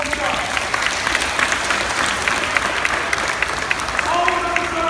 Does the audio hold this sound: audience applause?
yes